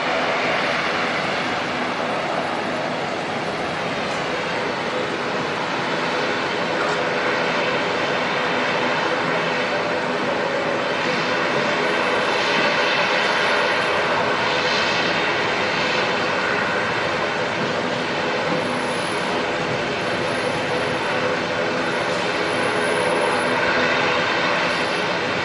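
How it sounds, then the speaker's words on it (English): Steady, continuous turboprop engine roar from an ATR aircraft starting to taxi out at Auckland Airport, heard from a distance as a broad, unchanging drone that holds at an even loudness for the whole stretch. "Noise coming off that ATR, looks like it's just started to head out."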